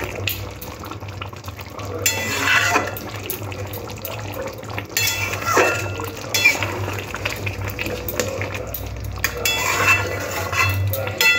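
A spoon clinks and scrapes around a pot of simmering Hyderabadi chicken curry as coriander leaves are mixed in, with wet bubbling underneath and bursts of louder stirring.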